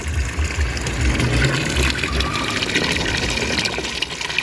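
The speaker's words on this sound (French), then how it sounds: "c'est l'eau du lavoir. Elle repart dedans, Kéké." Non-potable water pours steadily from the basin of a village wash-house, a close, continuous gushing splash with no pauses.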